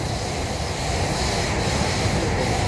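A metro train rumbles along with a steady, loud rolling noise and faint wheel squeal, heard from inside, without any voices, as it arrives at the last stop in Qatar.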